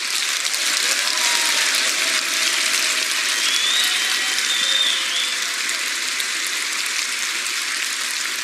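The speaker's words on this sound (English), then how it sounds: "please join me in thanking them with a huge applause." Sustained applause from a large crowd at the EVE Fanfest 2014 gaming convention fills the space, a dense even clatter of many hands clapping at steady loudness.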